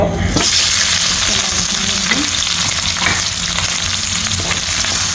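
Chopped onion and green chilies hit a hot oiled pan with a sudden loud sizzle that keeps up as a dense, steady hiss, with a few faint scrapes of stirring and no talking.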